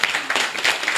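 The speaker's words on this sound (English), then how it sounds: "Just clap." An audience at an innovation week summit claps together, a dense continuous patter of many hands that fills the hall briefly.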